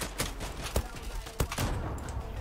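Bursts of automatic gunfire from the online shooter Zula, a few sharp shots spaced through the moment amid steady game noise, with a voice faintly present.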